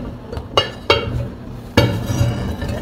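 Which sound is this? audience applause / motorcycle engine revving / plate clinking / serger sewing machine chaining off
plate clinking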